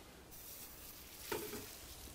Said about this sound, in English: Nice bit of sizzle